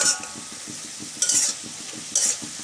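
Spinach stirred with a metal spatula in a hot pan, rhythmic scraping strokes over a steady sizzle, with three brief bursts of louder hiss as the leaves are turned.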